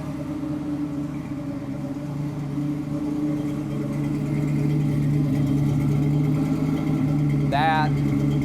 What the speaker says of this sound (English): That is a righteous sound from an iconic American muscle car